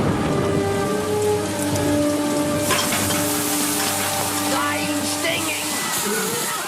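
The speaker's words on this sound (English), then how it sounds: "Good Lord, acid rain!" Acid rain pours down steadily in a Simpsons cartoon scene, a dense, continuous hiss of drops hitting surfaces that stays loud and even throughout, with faint tonal sounds underneath.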